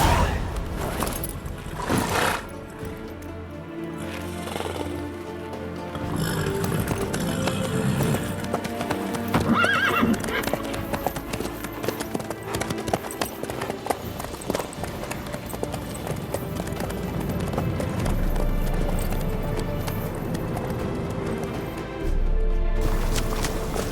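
Horse hooves clip-clop steadily in The Witcher 3 game, a rhythmic trotting under layered in-game sound and music, with a brief whinny and louder low thuds near the end.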